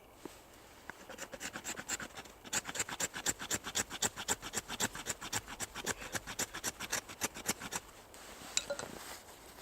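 A Fällkniven F1 bushcraft knife carves shavings from wood in rapid, evenly spaced rasping strokes, about two to three per second, close and steady for several seconds before stopping.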